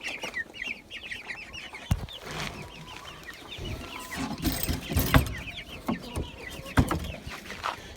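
Chickens, including a Brahma hen, cluck in a steady run of short repeated calls from a backyard coop, with a few sharp knocks and rustles breaking through.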